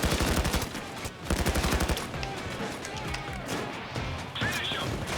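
Gunfire in the video game Payday 2 as a medic is shot, rapid bursts of automatic fire in quick clusters with sharp impacts, loud and close, fading into scattered shots and clatter.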